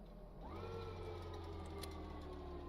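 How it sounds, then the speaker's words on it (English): Locomotive dynamic brake cooling fans in a train simulator game spin up, a steady whirring hum that rises in pitch after a brief lower drone, then holds constant over a continuous engine rumble. "the dynamic brake turns on a bunch of fans to cool the generators"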